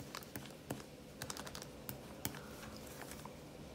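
A ballpoint pen fitted with a Schmidt refill is pressed hard against a plastic bag, giving quiet, sharp crinkly clicks and scratchy ticks in an irregular rhythm, close and faint, with no voices.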